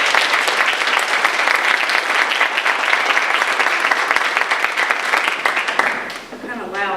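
An audience applauds to welcome a speaker at a health reform event, with steady loud clapping from a room of people that continues for several seconds before tapering off, and a voice briefly starting to speak as it fades.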